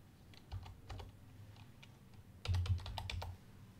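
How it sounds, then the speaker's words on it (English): Someone types on a computer keyboard, producing quiet, scattered key clicks with a denser flurry of taps toward the end, heard alone at low level. "I'm going to type that in here."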